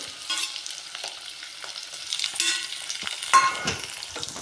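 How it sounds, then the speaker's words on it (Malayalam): Jackfruit seeds, green chilli and chopped tomato sautéed together in a pan, producing a steady sizzle with repeated spatula scrapes and a sharper clatter near the end. "എല്ലാം ഒരുമിച്ച് അങ്ങിട്ട് വഴറ്റാം നമുക്ക് ചക്കക്കുരു പച്ചമുളക് അരിഞ്ഞു വെച്ച തക്കാളി"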